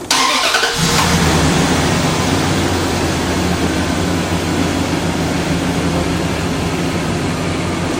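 A car engine cranks briefly and catches, then settles into a steady, loud idle that runs on without talk.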